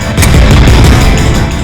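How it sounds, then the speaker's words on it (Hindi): Gunshots in a Hindi crime drama scene, heard as heavy, booming blasts that merge into a continuous loud rumble with a few sharper cracks standing out. "माँ जी, ये क्या गोली चलने की आवाज है?"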